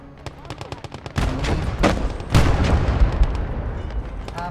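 A Maxim machine gun fires in rapid bursts on a snowy battlefield, close and loud, with heavy booms and other gunfire rolling underneath.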